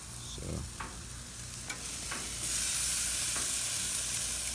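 Steak frying in a pan on a gas stove, a continuous close sizzle with a few scraping stirs and clicks, the hiss swelling louder toward the end.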